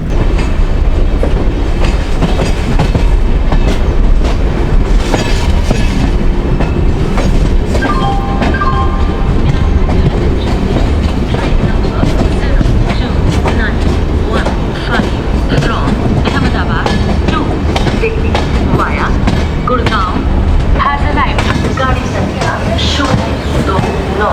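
Ashram Express running on the rails, loud continuous rumble with rhythmic clickety-clack of wheels over rail joints and occasional squeals, heard from inside a first class AC coach.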